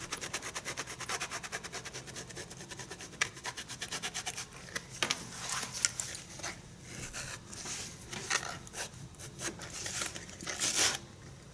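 Sanding a shoe sole for contact cementing: steady abrasive rubbing and rasping strokes, close and fairly loud, repeating rhythmically with brief pauses and bursts of harder scraping toward the end.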